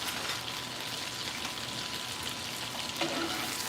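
Meat frying in a pan, a faint continuous crackle and spatter like light rain, with a small knock near the end and no voices.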